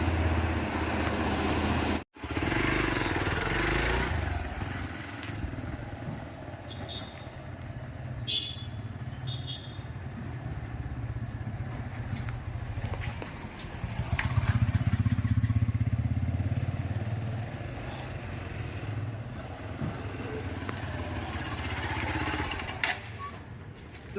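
A Hero Xpulse 200 4V motorcycle engine with a FuelX unit runs at a steady, smooth idle close by, a continuous low rumble with light mechanical clatter throughout.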